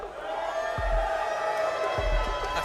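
Crowd cheering and whooping at an esports match, the Manchester Major quarterfinal between M80 and DarkZero, a steady roar of voices with a couple of low thumps.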